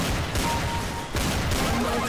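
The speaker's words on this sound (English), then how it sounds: "Wow, this gun is just pew pew pew." Gunfire in Counter-Strike Source comes as a dense, loud burst of rapid shots with a short break in the middle, close and harsh, with no voice over it.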